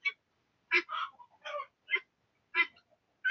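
Harsh, rattling guinea fowl alarm calls burst out in short repeated bursts with brief gaps, fairly close and loud against a quiet background.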